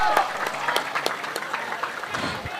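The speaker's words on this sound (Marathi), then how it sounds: "टाळ्या वाजवा आमिरसाठी." Spectators clap and cheer at a local tennis-ball cricket tournament match after a spectacular fielding effort, with a steady burst of applause and crowd noise throughout.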